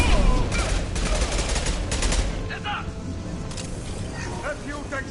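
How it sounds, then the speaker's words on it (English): Impact gun firing in the Mass Effect 2 video game, heard as a dense burst of loud gunfire for the first couple of seconds, then fading into scattered lighter shots over a continuous game soundscape. "Firing an impact gun."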